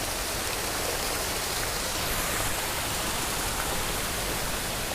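Forest waterfall rushing continuously as a broad, steady roar of falling water, close and unbroken, with no voices or other sounds.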